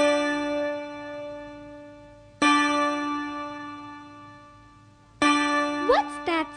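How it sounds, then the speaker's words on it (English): A ringing bell gives three separate strikes, each a few seconds apart with a long, slowly decaying metallic tone. A brief sliding tone overlaps the last strike. "What's that sound I hear? Oh, it's ding dong bell."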